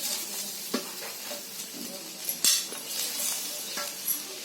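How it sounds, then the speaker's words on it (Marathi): Grated coconut roasts in a pan while being stirred, a soft, continuous sizzle broken by scraping strokes and an occasional light clink of a utensil against the metal. "आता खोबरा पण चांगला भाजला ना"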